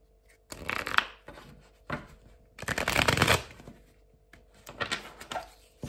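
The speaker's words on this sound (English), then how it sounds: "we're gonna pull some tarot cards first" Tarot cards being shuffled close up, three separate riffling bursts of papery flutter with quiet gaps between them, no voices.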